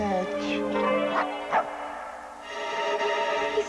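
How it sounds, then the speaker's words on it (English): A dog gives a few short, close yips and whimpering barks in a television advertisement, high-pitched and clear over a background music bed. "He stopped barking."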